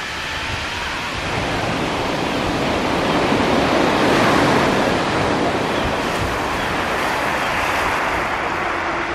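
Waves washing over the pebble beach at Brighton, England, a loud close surge that swells toward the middle and eases off, with gusty wind noise buffeting the microphone.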